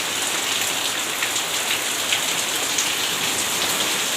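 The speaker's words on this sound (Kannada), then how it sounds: "ಇದು ಮನೆಯ ವರಾಂಡದಲ್ಲಿ ಸುರಿತಾ ಇರ್ತಕ್ಕಂತಹ ಮಳೆ." Heavy rain pours onto the verandah of a house, a steady, even roar of dense patter that stays loud and unbroken throughout, with no voices.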